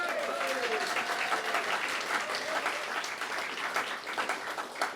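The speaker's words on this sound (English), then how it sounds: "So a huge round of applause again," Steady applause from an audience at a variety show celebrating the Volunteer Centre West Berkshire's 50th anniversary continues throughout, with cheering voices mixed into the clapping.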